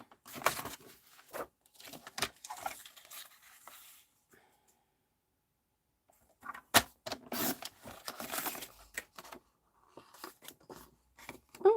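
Scissors snip through paper, cutting out a sheep shape for a handmade kids' card, in two bursts of quick, close, crisp cuts separated by a pause, with some rustling of paper between.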